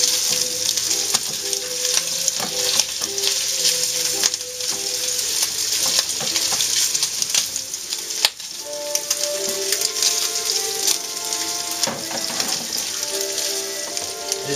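Sliced sausage and garlic sizzle steadily in a pan, a continuous bright crackle with occasional stirring scrapes, close and moderately loud with no talking.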